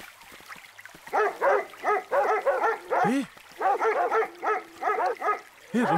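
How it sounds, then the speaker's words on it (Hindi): Squad dogs bark in a rapid series of loud, close yaps, several bursts clustered together with a few whimpering yelps mixed in, without talk. "रोहित, हमारी स्क्वाड डॉग्स"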